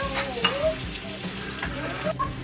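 Onions sizzle in a pan for pork minudo with a steady close fry, broken by light scraping stir strokes and faint clinks.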